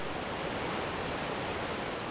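The Rhine Falls in Switzerland, Europe's largest waterfall at about 75 feet tall and 450 feet wide, roars as a dense, constant wash of loud rushing water with no break or change.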